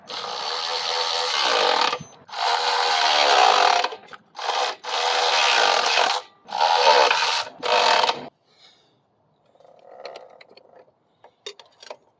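A wrench tightens the motor mounting on a Coleman BT200X mini bike, heard as several close bursts of rapid ratcheting separated by short pauses, then quieter faint clicks and handling.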